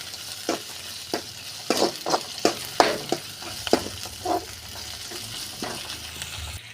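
Green chilies, curry leaves and onion sauté together in a pan with egg and drumstick leaves on the way: a steady sizzle runs underneath while a spoon scrapes and stirs in repeated bursts, with no voices.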